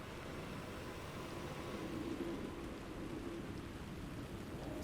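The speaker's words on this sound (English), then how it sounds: "now the rain is back?" Steady rain in the video game Alan Wake 2, a dense, even hiss of falling water that holds at a constant level throughout without any break.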